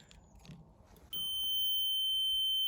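Multimeter continuity tester on a car heater fan resistor from a Golf 6 GTI, a steady high-pitched electronic beep that starts abruptly after a quiet moment of faint handling and holds to the end.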